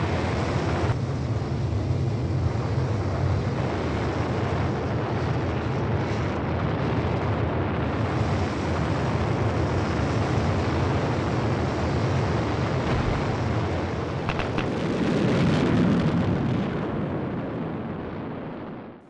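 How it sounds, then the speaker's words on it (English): Animated Curiosity rover descent stage fires its landing engines on Mars: a steady, loud, broadband roar like rocket thrust that holds for the whole stretch, swells briefly near the end, then fades. "It then fires up the landing engines to slow it down even further."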